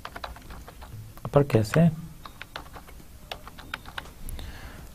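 Computer keys clatter in quick, irregular clicks close by, with a short spoken phrase briefly breaking in partway through.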